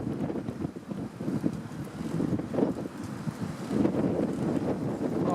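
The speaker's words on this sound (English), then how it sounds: "the wind is really bad." Strong wind buffets the microphone outdoors near a ship, a continuous low rumbling roar that swells and eases, with no speech over it.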